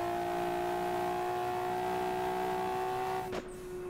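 A race car engine in the Assetto Corsa racing game holds a steady high drone, then drops sharply near the end as it shifts or lifts off, with no talk.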